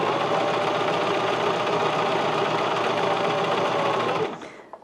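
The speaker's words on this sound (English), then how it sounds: "this is where the machine will go back up to the top" Sewing machine stitching a buttonhole on a 4-step buttonhole machine, a steady continuous mechanical whir at close range that runs evenly for about four seconds, then winds down and stops.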